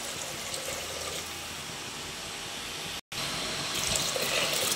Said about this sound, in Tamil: இப்போ நம்ம புளி தண்ணியை சேர்த்துக்கலாம்.